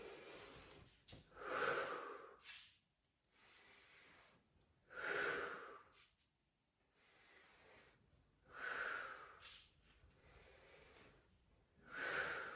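Forceful breaths pushed out during a Pilates wall workout, four strong exhalations spaced a few seconds apart, close and fairly loud with quiet gaps between.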